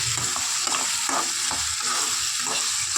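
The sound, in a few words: stirring dried prawns into frying tomato curry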